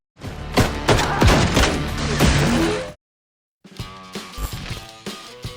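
Video game gunfire bursts out in a loud rapid volley for about three seconds, breaks off into a brief silence, then returns as further shots over a quieter, musical backdrop.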